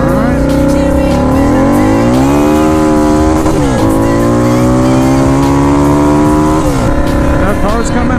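A car passes close on the road, its engine drone rising and falling loudly for several seconds beside a turbocharged Harley-Davidson V-Rod motorcycle, with the rider talking over it.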